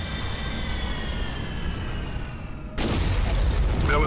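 Starship guns open fire in the space combat game Freespace 2: a steady hum with tonal whine gives way to a loud, sustained burst of weapon fire.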